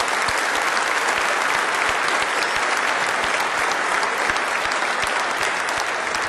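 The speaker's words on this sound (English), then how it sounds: "A round of applause for them." A large ceremony audience gives a loud, dense, unbroken round of applause for medal-winning sanitation department employees, lasting over six seconds with no talk.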